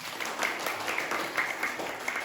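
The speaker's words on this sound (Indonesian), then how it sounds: "Tepuk tangan semuanya." A class clapping hands together in a school lesson after a sing-along: a short, moderately loud patter of many small hands clapping at once, with no talk over it.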